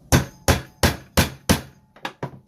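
A big hammer strikes a rivet while a knife handle is being riveted, seven sharp metallic blows at close range, five evenly spaced and then two quicker, lighter taps.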